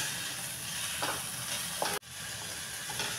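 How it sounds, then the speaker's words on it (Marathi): Okra (bhindi) stir-fries in a pan over medium heat, giving a steady sizzle with a few faint stirring scrapes and a brief dropout midway, no talking. "ही भेंडी ना सारखी परतत राहावी लागते, नाहीतर त्याला दोर सुटतो"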